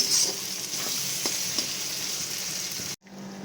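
Goat meat trimmings and fat frying in oil with spices, a steady close sizzle with faint scrapes of stirring, cutting out abruptly near the end before a quieter sizzle resumes.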